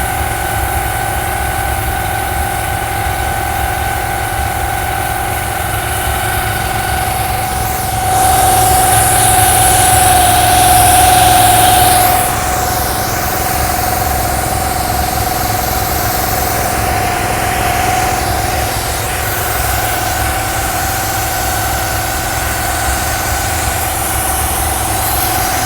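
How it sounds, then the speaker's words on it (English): A steam cleaner pressure washer engine runs steadily at high revs with a loud droning hum and vibration, briefly swelling louder midway before settling back. "We've turned the engine revs up so it's doing more pressure."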